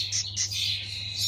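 Small birds chirp at a wildlife rescue station in a few quick, bright tweets close by over a low steady hum, with no voices.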